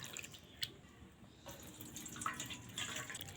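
Flattened rice (poha) being rinsed in water for a recipe, soft splashing and trickling with a few small drips, close but faint.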